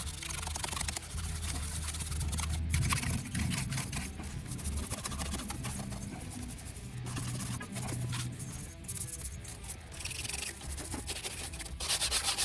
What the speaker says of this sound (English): scrub it with the medium scrub brush